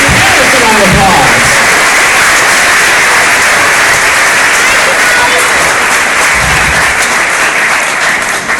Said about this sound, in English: And you should give your parents a round of applause.